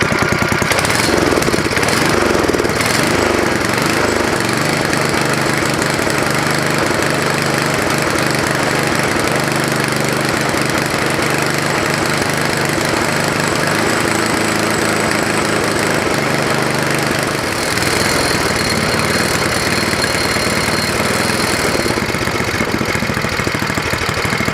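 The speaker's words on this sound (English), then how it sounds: "I'm just going to let it idle for a little while and get that old oil out of it." A vintage, rusty Ariens ST824 snowblower engine idles loudly and up close, a steady rough small-engine chug with a knocking rattle that holds for the whole stretch with no voices.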